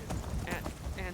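Hooves clip-clop in a short, brisk run of steady beats as a rider mounts and climbs a hill in a video game, with talking heard over the sound.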